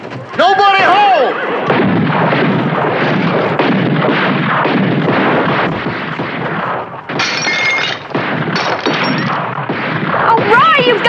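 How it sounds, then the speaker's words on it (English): Gunfire cracks out in a western shootout, a dense barrage of shots and crashing impacts that runs almost without pause. Brief shouted voices come through at the start and the end. "Oh, Roy, you've got to stop the shooting and running!"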